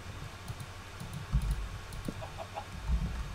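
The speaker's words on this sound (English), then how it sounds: "Chicken, shut up!" Minecraft chickens cluck in short bursts during gameplay, with rapid clicking of keys alongside; no talk.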